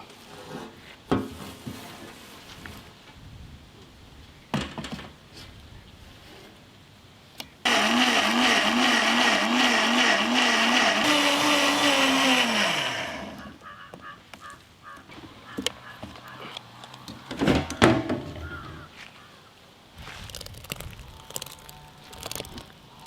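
A mixer grinder grinds green masala for mutton in one loud, steady whirring burst of about five seconds that winds down with a falling pitch, with quieter kitchen handling noises before and after.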